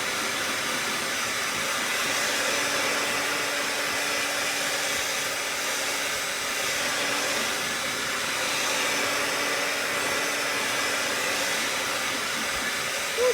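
Hair dryer blowing steadily on a chalk paste transfer laid on wood, a continuous close whooshing hiss with no pauses, alone with no talking.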